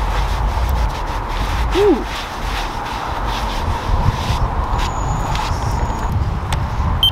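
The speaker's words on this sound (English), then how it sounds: "Clean off your surfaces." Brick pizza oven surfaces being cleaned off, a steady scraping and rubbing at moderate loudness, with a short vocal exclamation partway through.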